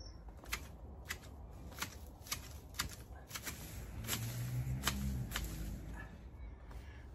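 Garden shears snip back lavender and red hot poker plants, producing a series of sharp, close, irregular cutting clicks with a soft rustle of foliage toward the end.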